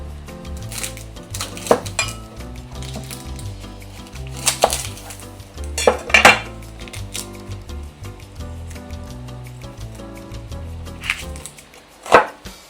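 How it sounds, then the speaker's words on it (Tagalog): A knife chops a white onion on a cutting board for Filipino adobo sa asin, giving irregular, fairly close taps and a few sharper clinks, with the loudest strikes near the middle and end, over a steady low background hum. "So i-chop ko lang yung sibuyas natin."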